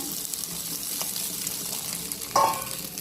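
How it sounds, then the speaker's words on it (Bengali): Rohu fish frying in hot oil for a crispy fish cutlet, a steady soft sizzle running throughout, with a brief louder hiss of oil near the end. "ফ্রাই করে নিতে হবে রুই মাছটা এতে দিয়ে দিলাম"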